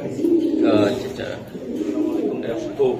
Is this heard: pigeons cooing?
yes